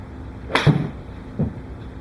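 A golf club strikes a ball off a tee during a lesson: one sharp, close swish-and-crack impact, followed moments later by a second fainter thump, in a quiet outdoor setting.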